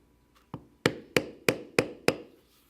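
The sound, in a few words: undercut beveler tapped on leather flower pattern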